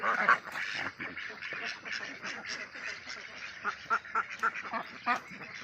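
A flock of ducks quacks busily and continuously, with loud bursts of overlapping calls up close and a few sharp quacks toward the end.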